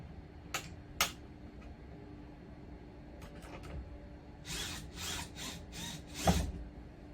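Short screws are driven in with a small power driver during an RV lock installation, giving a few brief whirring bursts separated by pauses, close and fairly quiet.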